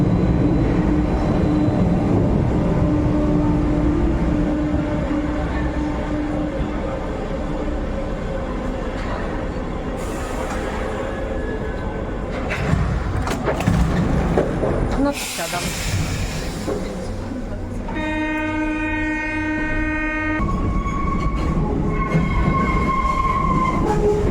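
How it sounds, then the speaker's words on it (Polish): A Paris metro train pulls into the station and rides on, a loud continuous rumble and rattle with a hissing brake burst, then a rising motor whine with tonal hum as it accelerates. "Jedzie nasz pociąg, nasze metro"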